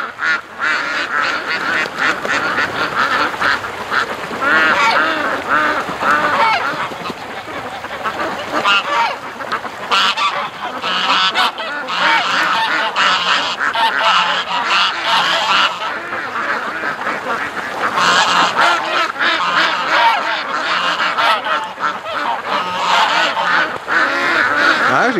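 A large flock of ducks being raised on a farm quacks and honks continuously, a loud, dense chorus close by that never lets up.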